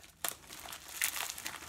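Crinkly plastic mail packaging being cut and torn open for a pair of boots, two sharp crackling bursts over a steady rustle, close and fairly quiet.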